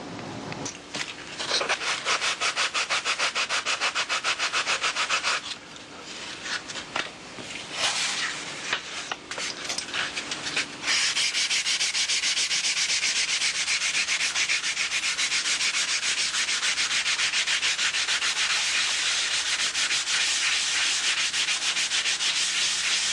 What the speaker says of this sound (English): now obviously we'll block sand this in next